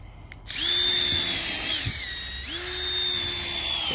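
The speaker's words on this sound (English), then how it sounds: "This is just a cheap old auger drill off of Amazon." An auger drill mixing salt and sand whirs up to speed, runs steadily, dips briefly in pitch, then spins up again, loud and close with a gritty churning underneath.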